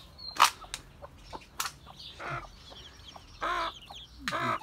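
Turkey hen with her chicks in a coop, giving scattered soft clucks and calls with high peeping chirps, close by and fairly quiet.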